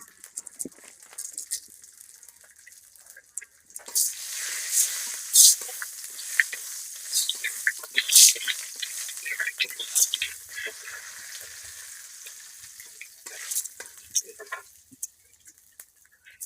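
Hot oil in a pan with panch phoron and bay leaf bursts into sizzling after a few quiet seconds, then keeps crackling and popping unevenly up close while someone talks.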